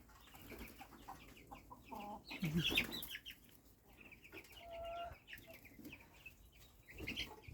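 Young chicks let out into the sunny yard on a morning farmstead peep in quick, scattered bursts, with a few clucks and a louder flurry partway through, all fairly faint against a quiet background.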